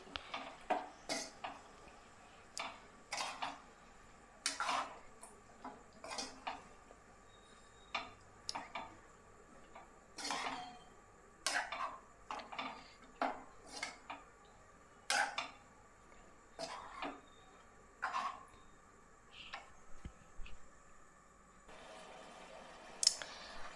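Chicken stirred in a pan, a series of sharp, irregular clicks and scrapes from a utensil against the metal, repeated every second or so over a quiet background.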